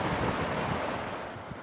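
Waves washing onto the beach at Joggins, a steady broadband rush of surf mixed with wind buffeting the microphone, fairly close and with no voices.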